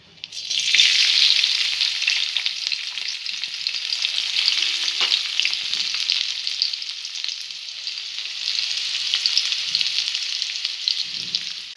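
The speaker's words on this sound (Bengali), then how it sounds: "পেঁয়াজ ভাজা হয়ে গেছে।" Chopped onions frying in hot oil in a pan while a Bengali fish dish is being cooked, giving a steady, close, loud sizzle with light stirring scrapes throughout, and no voices.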